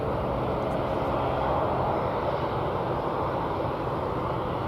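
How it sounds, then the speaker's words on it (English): Boeing 737-800 airliner at Dallas/Fort Worth Airport, a steady broadband jet engine roar held at constant loudness throughout, sounding fairly close with no voices over it. "Okay, we've got a 737-800"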